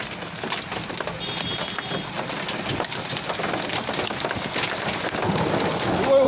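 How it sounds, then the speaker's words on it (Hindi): Hailstones pelt down in a thick, continuous rattle during a storm in Murree, falling on surfaces and parked cars and growing slightly louder toward the end. "बर्फ के ओले।"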